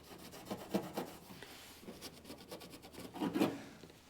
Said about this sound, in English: I'm not gonna wipe it all the way off across the panel.